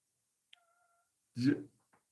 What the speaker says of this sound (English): there's a fucking cat in here